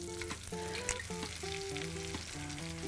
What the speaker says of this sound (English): take our salmon and put this skin side down on the grill